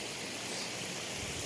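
Garden pond waterfalls give a steady, dense rush of flowing, splashing water, close and even throughout with no pauses, and no voices.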